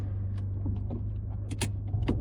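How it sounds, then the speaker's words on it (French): Electric power windows of a 2019 Renault Clio 4 run inside the car, a steady low motor whine with small clicks and knocks on top, close and moderately quiet. "On teste les lève-vitres électriques"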